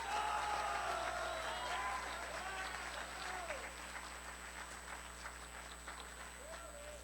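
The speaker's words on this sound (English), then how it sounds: "Please give a round of applause to our PA Distance Learning Charter School class of 2023 valedictorian" Applause for the class of 2023 valedictorian at a distance-learning charter school graduation ceremony, soft, distant clapping over a steady electrical hum, with some voices faintly audible, fading slightly toward the end.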